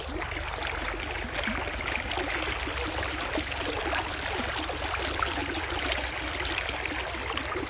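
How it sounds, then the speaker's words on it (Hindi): Water flowing along an irrigation channel in a village field, a steady close gurgling and trickling rush that runs evenly the whole time with no voices. "अभी पानी चल रहा है, देखो पानी दिखाता हूँ मैं आपको"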